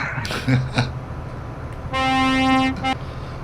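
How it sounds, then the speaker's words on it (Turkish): A truck horn in Euro Truck Simulator blares once in a long, loud, steady toot after a few short mechanical knocks, with engine rumble underneath. "Ne korna çalıyorsun kardeşim?"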